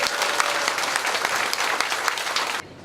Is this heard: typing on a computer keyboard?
no